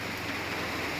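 Rain falls steadily in a rural countryside setting, a dense, even hiss of drops on surfaces that carries on without pause and no talking.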